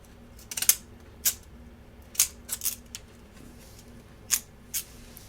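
Paper being cut with a craft cutting tool instead of regular scissors, sharp snipping clicks in an irregular sequence of about seven close, crisp cuts over quiet room tone.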